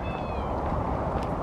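A cat outdoors near a river bridge gives a short, thin meow at the start, heard faintly over loud wind and traffic noise.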